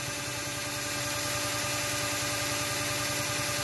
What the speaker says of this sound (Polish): I włączamy generator.